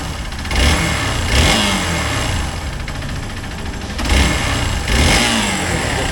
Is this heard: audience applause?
no